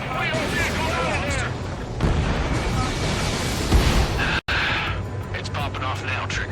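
Anti-aircraft fire and explosions in the Ace Combat 7 video game make a loud, dense barrage of booms and crackling bursts with whooshing jets, under excited in-game radio chatter and a sharp cut partway through.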